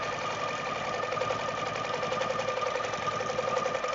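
Domestic sewing machine running steadily through free-motion quilting, a fast continuous whirring stitch at a constant pace, close and unbroken with no talking.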